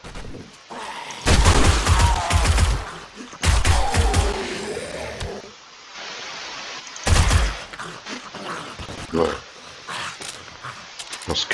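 Rapid submachine gun bursts in the survival game 7 Days to Die come in three loud volleys separated by quieter gaps, with a voice talking in between.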